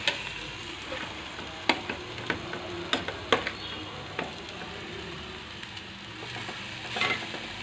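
Fish pieces sizzle steadily in sautéed onions in a pan, a low continuous fry broken by a scattering of sharp ticks and clinks, close and fairly quiet with no talking.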